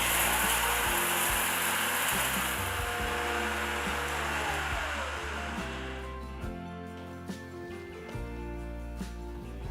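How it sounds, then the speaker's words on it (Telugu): A mixer grinder whirs as it grinds roasted spices into biryani masala powder, a loud high motor whine with rattling that runs for several seconds, then cuts off and gives way to softer knocks and clatter. "మెత్తటి పొడి అయ్యేట్టు రుబ్బుకోవాలి."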